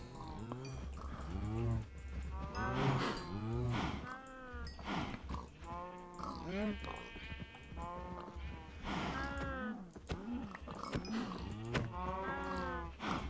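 Several Minecraft cows moo repeatedly in overlapping, drawn-out calls, a steady chorus of close, loud lowing that carries through to the end.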